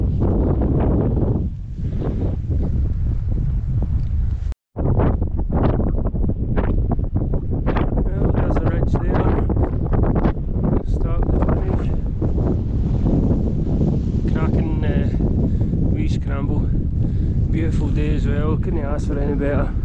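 Strong wind on the Forcan Ridge to The Saddle mountain buffets the microphone in a constant roar, briefly dropping out, while people talk underneath the gusts outdoors.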